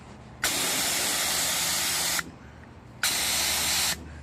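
A pressure washer sprays a wooden deck in two loud, steady bursts of broadband hiss, the first about two seconds long, then a pause, then a shorter second burst.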